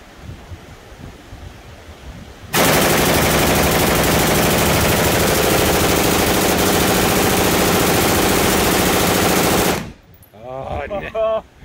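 Full-automatic gunfire from a short-barreled rifle fed by a Beta drum magazine roars in one long, loud, unbroken burst of several seconds at an outdoor range, followed by brief voices.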